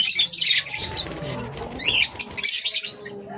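Pet budgerigars, yellow and opaline ino types, chirping in a cage, bursts of bright twittering calls close by with brief quieter gaps and faint rustling between them.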